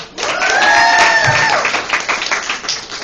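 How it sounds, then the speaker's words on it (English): Audience at a comedy club applauding and cheering for a departing comic, a dense steady wash of clapping with a few whistle-like shouts, loud and close, lasting the full stretch before thinning slightly at the end. "Clap it up for Yuna."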